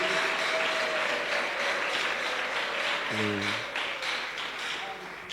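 Church congregation applauding God, a dense wash of clapping from many hands filling the room throughout, with a brief tonal musical note partway through and voices faintly underneath.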